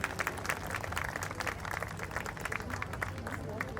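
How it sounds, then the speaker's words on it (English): A crowd claps in applause at an outdoor Bandra bench beautification event honoring benches painted by children, a steady dense patter of many hands with murmuring voices mixed in throughout. "big round of applause"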